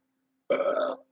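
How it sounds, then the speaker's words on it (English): A single loud burp, close and alone, lasting about half a second after a moment of quiet. "No, that was a bad burp."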